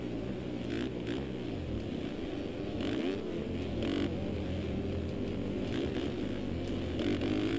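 Motocross bike engines in a racing video game drone and rev continuously, a loud buzzing roar with rising and falling pitch and brief throttle surges, heard alone throughout.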